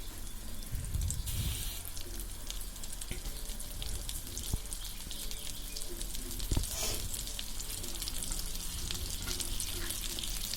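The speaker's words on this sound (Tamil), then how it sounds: "இப்போ இந்த வெண்ணெயை நல்லா அடுப்பை ஃபுல்லாகவே வச்சுட்டு நல்லா அப்படியே உருக்கி" Butter melts into ghee in a pan over a full flame, giving a steady soft sizzle that runs continuously at close range, with occasional clinks and stirring noises.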